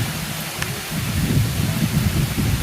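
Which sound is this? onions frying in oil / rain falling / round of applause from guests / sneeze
rain falling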